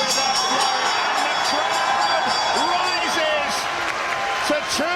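An arena crowd roars and cheers at the end of the Tyson Fury vs Dereck Chisora boxing match, a loud, continuous swell of voices with a commentator talking over it.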